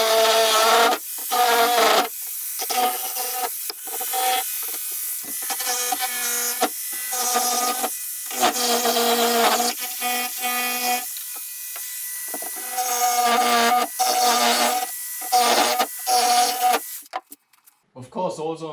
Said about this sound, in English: So, reciprocating saw.